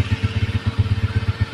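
A motorcycle engine idles steadily up close in a garage during a charging-system wiring test, its exhaust pulsing in an even, rapid thump with light mechanical clatter and no talk.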